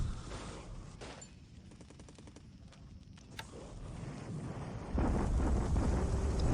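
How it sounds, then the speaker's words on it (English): An artillery bombardment in the War in the Pacific strategy game plays as a rapid, crackling run of distant gunfire over a windy rumble, swelling louder and denser toward the end. "He's bombarding still here, and we also will be bombarding him in return."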